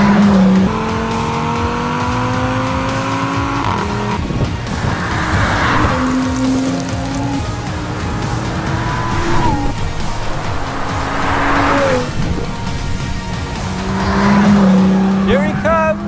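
A BMW M2 fitted with the optional loud exhaust tears past at speed, engine note rising and falling through several gear changes with a throaty roar, heard from the roadside amid wind and crowd noise.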